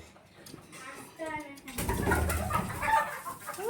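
After laying an egg, a hen gives a few short rising clucks, followed by a louder stretch of cackling mixed with a person talking nearby.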